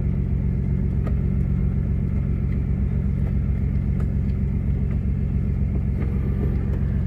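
A Jeep Cherokee engine, just converted from two-wheel drive to 4x4, idles steadily after starting, a loud, continuous low rumble with no talk over it.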